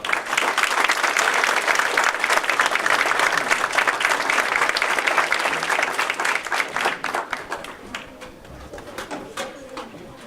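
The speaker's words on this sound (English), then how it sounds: "Give another round of applause." Sustained audience applause from a large crowd, loud and steady, thinning out toward the end as the clapping fades.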